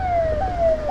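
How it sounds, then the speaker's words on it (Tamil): Ambulance siren on a road, a steady wailing tone that holds with brief steps, loud and close over low traffic rumble. "மறுபடியும் ஆம்புலன்ஸா"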